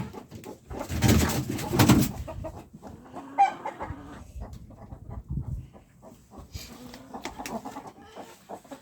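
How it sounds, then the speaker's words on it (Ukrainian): Ameraucana chickens and roosters cluck and coo nearby in short bursts, with a louder flurry of fowl calls early on and scattered softer clucks after. "Півні себе гарно почувають тут мої аміраукана."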